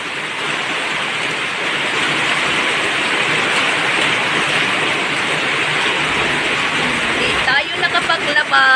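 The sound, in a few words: heavy rain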